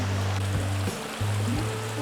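Creek water rushing over rocks at a hiking trail crossing in the Pecos Wilderness, a steady close wash with a low tonal hum pulsing underneath.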